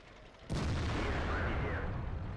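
A tank gun fires in World of Tanks: one sudden loud blast followed by a rolling, fading rumble, with no talking over it.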